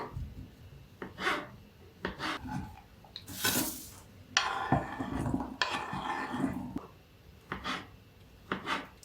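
Repeated knife strokes slicing through crab sticks on a board, a series of short rasping cuts with brief pauses, close and fairly quiet.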